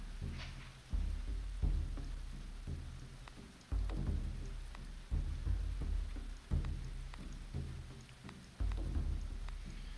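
Steady rain patters over a medieval colony in the survival game Going Medieval, broken by repeated deep thunder rumbles and cracks that surge and fade at intervals, with no talking.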